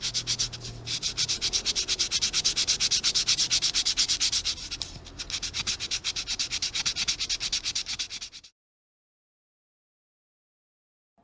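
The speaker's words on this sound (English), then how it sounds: "Next step in the preparation is to sand them smooth, and here I'm using 120 grit sandpaper." Quick back-and-forth strokes of 120 grit sandpaper smoothing ship model parts, close and evenly rhythmic, with a short break before the scraping resumes and then ends.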